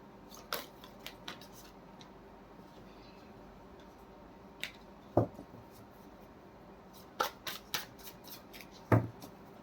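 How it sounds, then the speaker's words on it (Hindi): Tarot cards are shuffled by hand in a quiet room, giving sparse, soft riffling and sharp snaps and taps scattered irregularly over a faint background. "This is my last shuffle."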